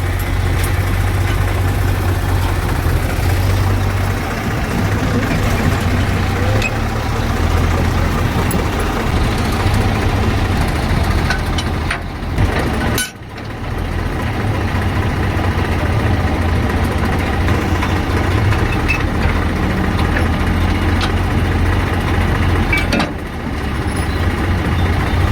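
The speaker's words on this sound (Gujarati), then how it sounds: "તો આ ત્રીજું ટ્રેક્ટર આવી ગયું છે" A tractor engine idles steadily at close range, a continuous low rumble lasting the whole stretch with one brief dip partway through, and no talk over it.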